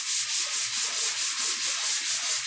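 A panel coated with guide coat is sanded by hand in steady back-and-forth strokes, about ten even, close rasping swishes in a regular rhythm.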